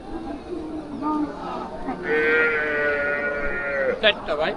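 Cattle at a cow market give a drawn-out low moo, mixed in with nearby people talking and a busy crowd murmur.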